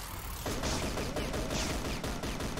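Bursts of gunfire in the online shooter Crossfire, a quiet, distant-sounding stretch of rapid shots and rattling fusillade under steady game noise, with no voices.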